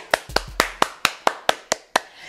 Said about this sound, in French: Alors, le plus important, on s'applaudit.